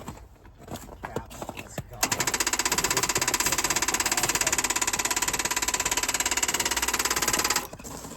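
A wrecked truck's engine cranks over and over without catching: after a couple of seconds of clattering, a loud, fast, steady mechanical pulsing runs for about five seconds, then cuts off abruptly.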